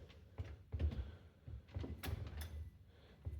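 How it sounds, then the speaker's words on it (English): An AEG ComfortLift FSS62807P dishwasher's jammed bottom basket is pressed up and down, giving a series of close, dull knocks and rattling clunks in an irregular rhythm with no talking. "as I'm pressing this up. It will go up and down."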